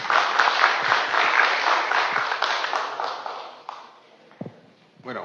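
Loud audience applause at a municipal event in Huaral, Peru, welcoming the head of the urban development plan team: dense crowd clapping that gradually thins and dies away, ending with a few scattered claps and faint room noise.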